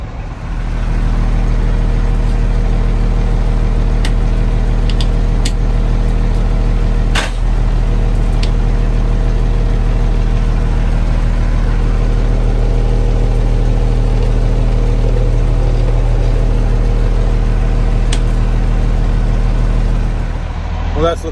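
An International dump truck diesel engine that had sat for 15 years runs at a steady low idle throughout, loud and close, with a sharp knock or clunk partway through and someone talking over it.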